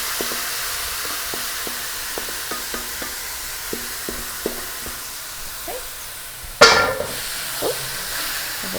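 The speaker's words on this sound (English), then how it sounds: "Give it a nice stir" Food frying in a non-stick pot while making pastelle, a soft steady sizzle under light regular taps of a spoon, then a sudden loud burst of hissing as something is added and stirred.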